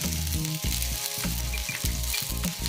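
Pumpkin flower bhajji deep frying in hot oil, a dense, continuous bubbling sizzle with a regular pulsing rhythm, heard close up with no voices.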